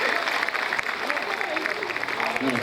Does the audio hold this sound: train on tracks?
no